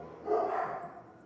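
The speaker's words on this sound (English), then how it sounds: "Oh, these dogs." One short bark from a dog bursts out at moderate volume against quiet room tone, then fades away.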